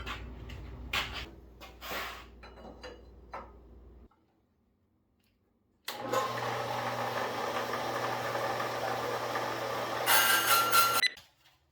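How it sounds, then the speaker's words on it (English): A bandsaw slices through a custom turbo exhaust pipe for an LS-swapped S10, first ticking and clattering, then after a short pause a loud, steady, close-up whine and rasp that builds in harshness near the end. "it's just gonna hold it in my bandsaw so I can cut it"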